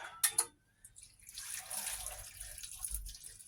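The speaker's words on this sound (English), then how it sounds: "I think I'm going to add some water." Water poured into a cooking pot holding chicken and cabbage in a home kitchen, a steady splashing stream lasting a few seconds after two short clinks, close and fairly quiet.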